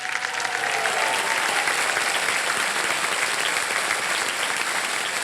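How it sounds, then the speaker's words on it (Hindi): Sustained applause from a television quiz show studio audience on Kaun Banega Crolepati season 16, steady dense clapping filling the room at even loudness throughout, with no voices over it. "तालियां बज जाएं इनके लिए।"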